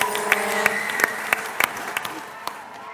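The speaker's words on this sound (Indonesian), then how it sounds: "Berikan tepuk tangan yang meriah." An audience at a contest gives lively applause for the next contestant, a steady wash of clapping with sharp individual claps standing out, and a faint voice underneath.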